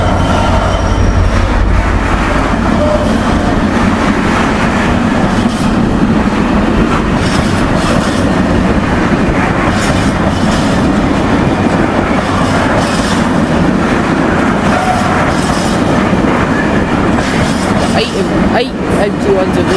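A DRS Class 66 locomotive, 66414 in old Stobart livery, hauls a rake of empty freight wagons past a level crossing, its loud steady rumble and clickety-clack of wheels on rail joints continuing throughout.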